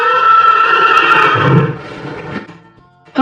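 A horse gives a loud, close whinny with a long, wavering neigh that trails off, followed by a short snort at the end.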